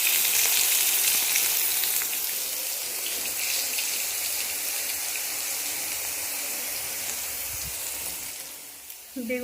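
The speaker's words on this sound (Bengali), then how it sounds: "বেগুন ভাজাটা তো ওইদিকে হচ্ছে" Eggplant slices frying in hot oil give a steady, close sizzle that runs for most of the clip, with a few faint clinks near the end.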